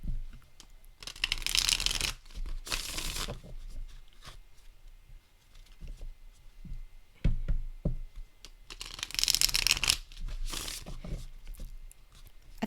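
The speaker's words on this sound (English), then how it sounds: "Shuffle demonstration as usual." A tarot card deck being shuffled in close, crisp bursts, two longer riffling passages with softer handling taps and rustles between them, no talk.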